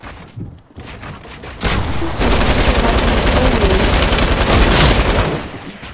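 Light machine gun fire in a video game, a dense sustained burst that starts after a brief lull and rattles on loud and continuous for several seconds.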